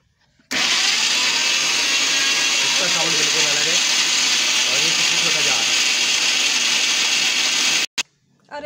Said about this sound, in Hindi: हमारी मिक्सी बहुत अच्छा काम कर रही है, और मसाला काफी अच्छा पिसा है